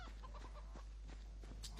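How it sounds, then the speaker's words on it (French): Chickens clucking in the video game Divinity 2, a few soft, scattered clucks and short calls over a low steady hum, fairly quiet and close. "Regarde, quand tu touches certains poulets, parfois ils meurent."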